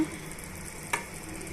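Chicken curry masala with salt fries in a pressure cooker, giving a quiet, steady sizzle with one brief scrape of stirring partway through.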